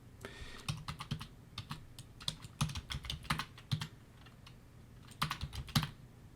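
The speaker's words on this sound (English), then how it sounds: "Just type in a new name." Rapid, uneven keystrokes tap on a computer keyboard, close and fairly quiet, in short clustered bursts with brief gaps, alone with no voices.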